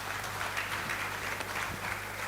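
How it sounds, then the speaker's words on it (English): Quiet, dense applause from a conference audience honoring the moderator, steady soft clapping throughout, heard from a distance. "Let's give our moderator a round of applause"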